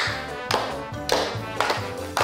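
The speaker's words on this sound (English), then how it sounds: "Then we need to clap together, like this" Hands clapping together, four sharp claps at a steady, roughly half-second rhythm, close and clear over a soft musical background.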